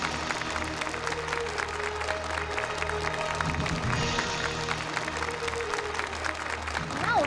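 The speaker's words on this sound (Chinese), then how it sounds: "现在，让我们用最热烈的掌声欢迎童总的到来。" A banquet crowd claps to welcome a guest, steady applause of many hands at moderate distance, with some murmuring voices mixed underneath.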